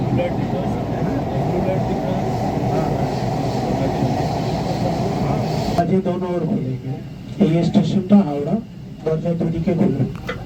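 A Kolkata Metro train runs beneath the Ganges from Dum Dum toward Howrah station, with a constant loud carriage rumble that drops to a quieter ride while someone talks over it.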